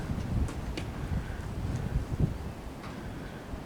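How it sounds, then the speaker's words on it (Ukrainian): Gusty wind buffets the microphone in a continuous low rumble, with a few faint knocks and rattles in the background. "Що це вітер розгулявся"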